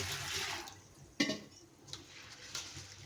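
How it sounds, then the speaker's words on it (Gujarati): Sago pearls being rinsed in water before making fasting wafers, with soft splashing and sloshing, a sharper splash near the middle and a few smaller swishes, close and fairly quiet. "એને પાણીથી 1-2 વાર વોશ કરી લેવાના છે"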